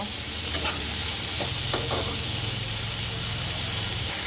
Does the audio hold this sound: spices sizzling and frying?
yes